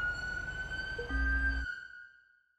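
An ambulance siren in the GTA 5 LSPDFR mod holds a steady, high wailing tone over a low engine rumble, then cuts back to a thinner tone and fades out.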